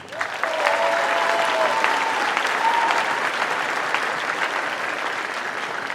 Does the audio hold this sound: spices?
no